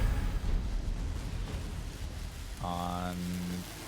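A rain spell cast in the video game Divinity: Original Sin 2 produces a steady hiss of falling rain. Near the end, a short tonal game effect rings out over it.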